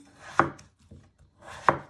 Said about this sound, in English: you want to chop it down the middle using your sharp knife, and you want to chop them in half again